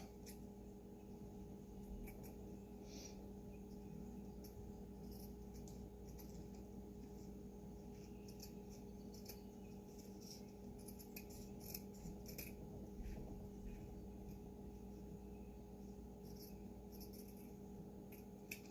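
Scissors snip steadily through shirt fabric around a collar, a soft continuous rasping and rubbing close by under a steady low background hum, with no one talking.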